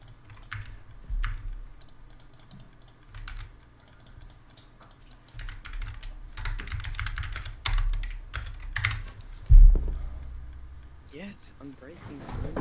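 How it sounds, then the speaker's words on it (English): Bursts of computer keyboard typing come in irregular clusters, fairly close, alongside a low hum and occasional thumps, with a person talking over parts of it. "I actually like this keyboard"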